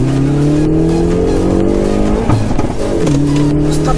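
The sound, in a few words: Hyundai Veloster N revving and launching from standstill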